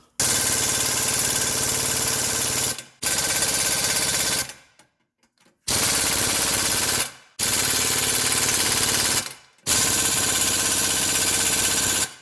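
A 3/8-inch impact gun with a 17mm socket hammers nuts and bolts off during lower ball joint work on a 2013 Hyundai Santa Fe 2.0 Turbo, in five loud, close, sustained rattling bursts separated by short pauses.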